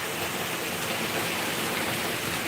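Steady rain falling, a dense, even hiss of drops that stays constant throughout with no voices.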